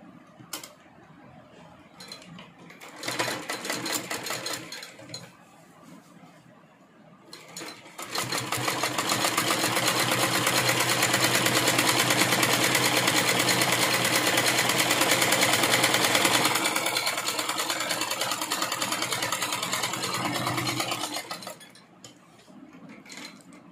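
A sewing machine stitches through A4 document sheets, with a few short starts followed by a long, loud, steady run of rapid mechanical clatter that stops near the end, with no speech.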